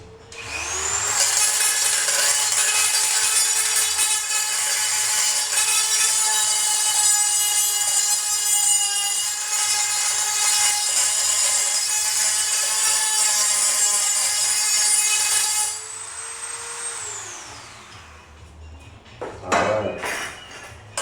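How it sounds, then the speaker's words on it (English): A lawn mower chute blocker is rubbed down with a power tool that gives a loud, steady high-pitched whine for about fifteen seconds, then winds down and leaves a few close clatters and knocks. "let me rub down this."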